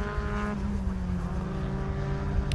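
Formula Ford 1600 race cars circle the Knockhill circuit. Their engines whine loudly with steady pitched tones that shift as the cars go past, heard close and alone.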